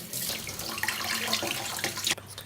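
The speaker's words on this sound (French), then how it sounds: "On le met dans l'eau, on le rince." Running tap water splashes steadily into a sink as red mullet are rinsed after scaling in a restaurant kitchen, a continuous near hiss that stops abruptly just before the end.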